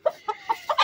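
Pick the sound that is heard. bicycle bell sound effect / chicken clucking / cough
chicken clucking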